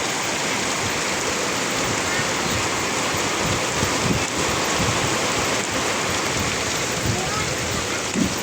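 Dense, steady typhoon rain roars continuously, a heavy hiss of water pouring down with no letup.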